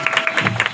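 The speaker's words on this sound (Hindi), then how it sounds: "जोरदार तालियों से स्वागत" Loud applause welcomes a speaker at a public AYUSH immunity event with the collector, a dense burst of clapping from a gathered crowd, close and continuous.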